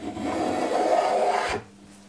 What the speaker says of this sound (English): listen to the sound of the spoke shave instead